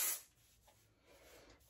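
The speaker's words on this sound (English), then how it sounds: "So I'm gonna start by spraying just a little bit of this through the crown." Kenra volume hair spray released from a can in one short close hissing burst, then fading into quiet room ambience.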